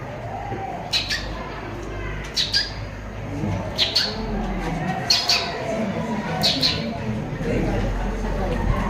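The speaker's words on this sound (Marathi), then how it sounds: "चिमणीचा आवाज" Short bursts of sparrow chirping recur every second or so over a busy background hum, bright and fairly close.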